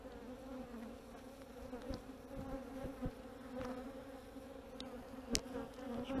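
Steady low droning hum of many honeybees at an opened beehive, close and continuous, with faint clicks and knocks of frame handling mixed in.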